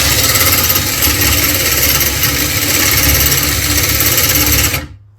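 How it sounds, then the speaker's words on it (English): A DeWalt right angle drill spins steadily on a speedometer test rig with a motorbike electronic speedo sensor, giving a loud, continuous mechanical whir up close that cuts off abruptly at the end. "Here's the test rig with my DeWalt right angle drill"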